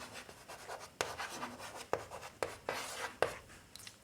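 A pen writes an equation by hand, faint close scratching strokes broken by sharp taps as marks start and lift from the page in a quiet room.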